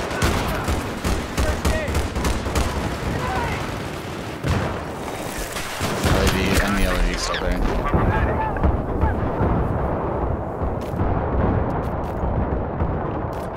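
Battlefield 3 gunfire aimed at an LAV rattles in dense, loud bursts and heavy blasts, layered continuously with game noise and someone talking over it.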